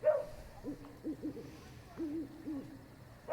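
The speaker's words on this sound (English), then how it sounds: "You hear sort of various house movements around and some owls." Owls hoot at night in a series of soft, low hoots that come in short clusters, moderately distant, with no talking.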